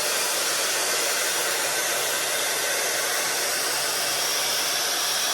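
Heated thermal hair brush running on hair, a steady airy whoosh of blowing air that holds evenly close by with no one talking.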